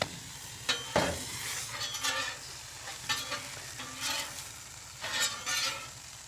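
Buffalo chicken quesadillas with cheese warm in a pan on low heat, giving a steady soft sizzle broken by repeated scraping and stirring strokes of a utensil against the pan.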